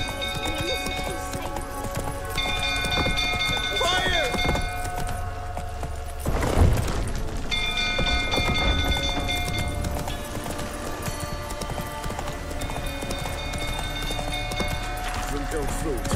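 Roach the horse from The Witcher 3 video game, a steady rapid clip-clop of galloping hooves throughout, joined by a brief whinny, under in-game voices and music.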